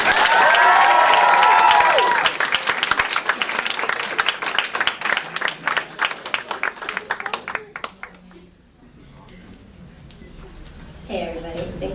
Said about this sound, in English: If we could give them a nice Jerry Springer round of applause.